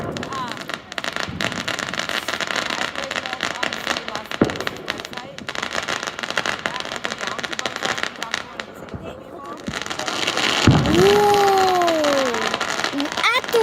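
Fourth of July fireworks in the City of Las Vegas go off in scattered crackling bursts and distant booms, with a whistling rocket rising near the end, under steady wind and crowd noise.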